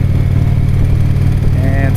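A big motorcycle engine runs steadily while the bike is ridden, a loud close-up low drone holding throughout, with a voice talking over it near the end.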